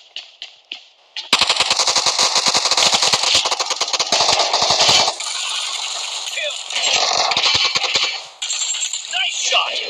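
PUBG Mobile gunfire: a few quick shots, then loud sustained rapid automatic fire rattling for several seconds with brief pauses, dense and close, under a game voice.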